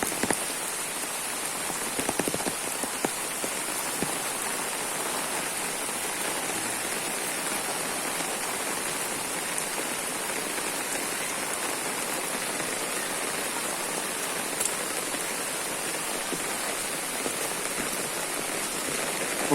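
Heavy rain pours steadily onto surfaces in a flooded area with brimming ponds, a dense, even hiss that runs unbroken and loud throughout, with no voices.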